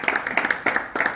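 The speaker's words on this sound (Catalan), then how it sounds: "Així que un aplaudiment per tots i totes." Clapping from the audience at a mental-health talk, heard as a short run of individual claps, close and fairly loud, in a steady rhythm.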